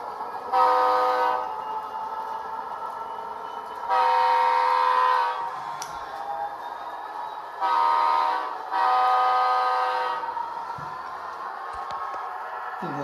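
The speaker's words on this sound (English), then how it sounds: "Now I'm gonna increase its speed and have it go back here." An Athearn Genesis SD59M-2 HO model locomotive, Union Pacific 9922, runs with DCC sound, its diesel engine rumbling steadily while the horn blows in several long blasts, close and fairly loud.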